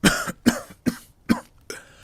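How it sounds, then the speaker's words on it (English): A person gives five sharp, separate coughs spaced roughly half a second apart, close and clear with brief quiet gaps between them. "SB242 pauses, coughs."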